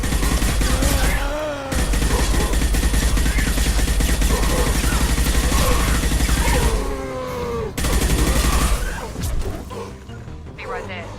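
Rapid gunfire crackles through a firefight in the sci-fi video game Mass Effect 2, sustained bursts layered with impacts and game voices, with a brief drop-out before the shooting resumes and then tapers off.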